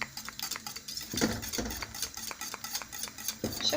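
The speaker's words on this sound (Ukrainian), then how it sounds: "чуть-чуть так помішаю" A utensil scrapes and clinks around a pan in steady stirring strokes as sauce bubbles softly on low heat, with no voices.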